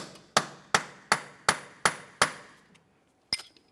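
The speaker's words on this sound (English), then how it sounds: "continue on with a hammer and punch" Six sharp metallic hammer strikes on a punch land in an even rhythm, each ringing briefly, followed by a pause and one final louder blow, freeing a 2006-2011 Honda Civic axle from the wheel bearing.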